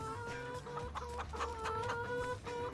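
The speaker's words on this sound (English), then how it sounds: "You sound like grown-up chickens." Chickens in the Farming Simulator 25 video game cluck in a busy overlapping flock, repeated bright clucks and short calls close by, with no voices.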